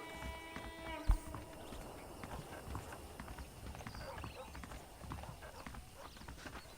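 Saddled horses trot in the Red Dead Redemption video game, hooves clip-clopping in a steady quick rhythm at moderate distance, with a brief thump near the start and no clear talk.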